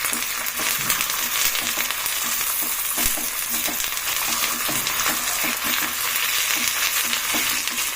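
Curry leaves frying in hot oil for festival dishes give a loud, steady, crackling sizzle that runs throughout, with faint stirring taps and no talking.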